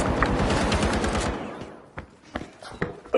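A shotgun fires in a video game amid a dense, loud barrage that fades, followed by a few sharper scattered blasts and clatter, with no talking over it.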